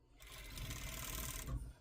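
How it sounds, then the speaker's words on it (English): A serger overlocker stitches elastic together for a top, its motor whirring in a steady continuous run of under two seconds before stopping. "now I'm gonna serge my elastic together"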